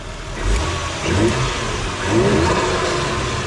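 A Toyota 1JZ-GTE engine fitted with a new intake revs up twice, each rise swelling over a steady idle rumble, close and fairly loud with no talk.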